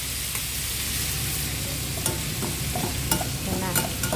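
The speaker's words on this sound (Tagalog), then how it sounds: "So, igigisa na natin yung mushroom." Mushrooms sizzle steadily in a hot pan while a utensil stirs and scrapes through them, with close, busy frying and occasional louder clacks and no voices.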